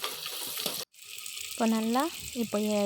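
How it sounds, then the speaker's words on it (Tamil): Onions frying and being stirred in a pan, a steady hiss of sizzling with scraping, cut by a brief gap, while a voice talks in Tamil over it. "நல்லா வெங்காயம் பொன்னிறமாக வர வரைக்கும் நம்ம கிளறி விட்டுக்கணும்."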